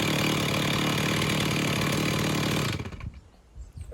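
Chainsaw on an Alaskan mill idling loud and steady to cool after a milling cut, its engine drone holding evenly for nearly three seconds before cutting off into quiet outdoor ambience.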